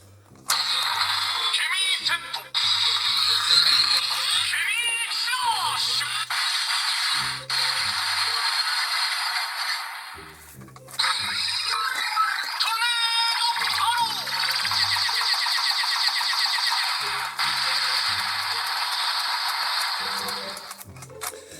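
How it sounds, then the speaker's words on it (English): Kamen Rider Gotchard DX Gotchartornado toy belt playing its electronic sound effects: bright, busy synthetic jingles and beats repeating in two long bursts separated by a brief pause, with mechanical clicks. "You can actually get the noises out of this without a card, because all that's happening is the card is pushing this little black switch right here."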